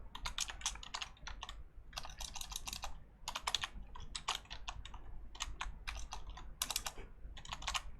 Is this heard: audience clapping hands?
no